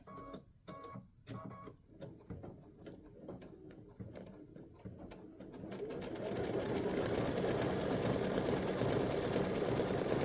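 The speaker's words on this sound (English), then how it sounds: "it's stitching that little stem stitch again" An embroidery sewing machine stitching a stem stitch runs with a rapid mechanical chatter, sparse clicks and taps at first, then a steady dense whirring buzz that grows louder and continues without talk.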